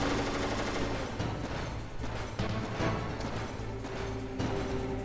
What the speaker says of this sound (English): Stinger missile.